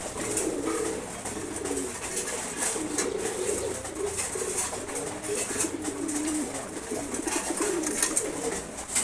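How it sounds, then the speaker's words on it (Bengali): A pair of uncommon-coloured pigeons coo in a steady, low murmur that runs the whole time, mixed into loud, busy background noise from a pigeon loft, with no talking. "খুবই আনকমন কালারের এক জোড়া কবুতর আছে, দেখেন"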